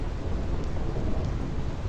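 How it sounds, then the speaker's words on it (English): Thunderstorm from Final Fantasy X HD Remaster, a dense steady wash of heavy rain with a low rumbling undertone, constant and enveloping, no voices. "This storm never stops."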